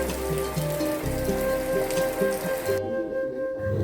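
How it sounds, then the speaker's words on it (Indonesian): Heavy afternoon rain pours down around a house, a dense, constant close-up hiss of water striking surfaces with low rumbling underneath, no one speaking. "Ini sore harinya alhamdulillah hujan deres banget, jadi adem"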